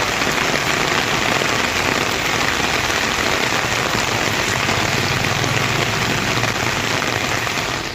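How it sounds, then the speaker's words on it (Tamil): Heavy rain pours down steadily in Chennai, a loud, dense, unbroken hiss of drops striking surfaces for the whole stretch, with no voices. "செம்மஞ்சேரியிலும் கனமழை பெய்தது"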